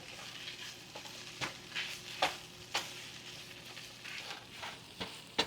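Vegetarian sloppy joe mixture frying over medium heat in a pan while being stirred, a steady soft sizzle broken by several sharp scraping clicks of the utensil, close and fairly quiet with no talking.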